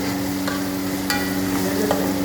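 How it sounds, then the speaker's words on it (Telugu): Mutton pieces being stirred with onions in a hot pan for mutton curry, a steady sizzle and fry with occasional scraping clinks of the spoon against the vessel, close and continuous, no voices. "ఉల్లిగడ్డ తీసి మటన్ని కలుపుకోవాలి మంచిగా గోలాలి"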